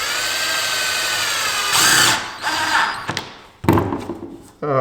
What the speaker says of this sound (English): So I'm just gonna put 6 screws in here,